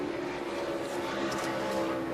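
NASCAR Sprint Cup race cars on qualifying laps at Michigan, running over 200 mph, make a steady, loud engine drone that holds for about two seconds.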